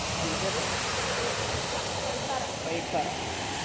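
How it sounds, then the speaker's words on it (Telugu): Steady, loud rushing of Pykara Waterfalls near Ooty, a continuous broadband roar of falling water close by with no breaks. "దగ్గరగా వెళ్తే మనకు ఆ యొక్క నీటి సవడి యొక్క శబ్దం చాలా అద్భుతమైనటువంటి శబ్దం"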